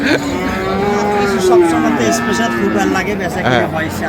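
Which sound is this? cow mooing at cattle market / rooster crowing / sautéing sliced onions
cow mooing at cattle market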